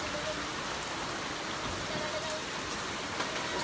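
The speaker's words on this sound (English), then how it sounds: "There's a Ghana rain for ya." Steady rain pours down in Ghana, a dense even hiss of drops on surfaces filling the whole stretch without pause, close and continuous.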